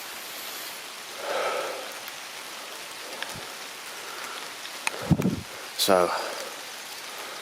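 Steady rain pattering on leaves and ground on a misty summer day near Llangollen, a constant soft hiss with a few louder rustles and knocks nearby, and a voice speaking briefly.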